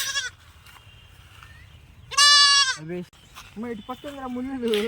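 One loud, quavering goat bleat rings out close by, followed by a shorter cry and what sounds like a voice talking.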